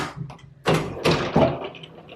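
A small sliding door to a bedroom in a holiday rental's ensuite bathroom rolls along its track in a few quick rumbling pushes, close and fairly loud, with no talking.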